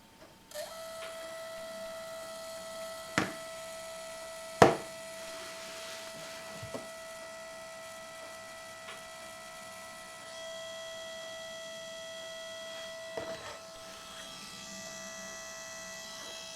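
A small LG Pocket Photo printer feeds out a photo with a quiet, steady mechanical whine and hum, marked by a few brief clicks and taps.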